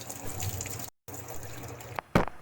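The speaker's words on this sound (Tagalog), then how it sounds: "Ihanda ang mga sangkap at hugasan ang mga ito." Cooking ingredients such as ginger, lemongrass and malunggay are washed under running water, a steady trickle and splash with a brief break and a louder gush near the end.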